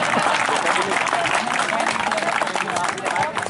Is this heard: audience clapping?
yes